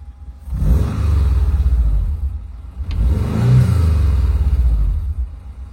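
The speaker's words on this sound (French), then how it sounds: "un petit coup d'accélérateur" Two quick throttle blips from the engine of a 1967 VW T2a camper van, each rising into a low, throaty rev and falling back, heard close up without voices.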